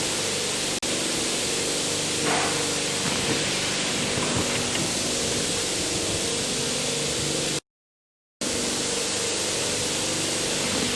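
Dental air-water syringe spraying water during a Class III glass ionomer restoration, a steady loud hiss that runs almost continuously with one brief break and no talk.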